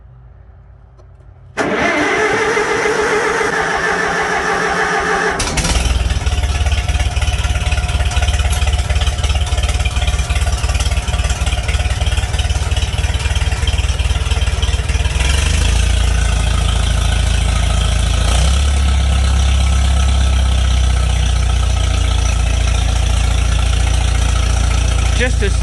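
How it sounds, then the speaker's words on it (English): A diesel engine cranks briefly and catches, then settles into a loud, steady, deep idle with heavy low rumble that continues unbroken. "Got some serious belly bass coming out of that engine"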